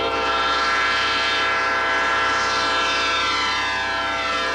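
A train nears a level crossing, its horn sounding as steady, loud, sustained tones over a constant rumble of rolling cars, with no talk.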